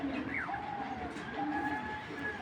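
Racing pigeon cooing close by, a soft rolling coo with a few faint chirps, heard alone over a low steady background hum.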